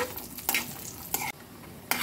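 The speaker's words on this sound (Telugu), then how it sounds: "ఇదంతా కలుపుకుంటూ చక్కగా వేయించుకోండి" Cashews and raisins fry in ghee for sweet-shop style laddus, stirred with a spoon: a quiet, soft sizzle broken by a few short scraping strokes against the pan.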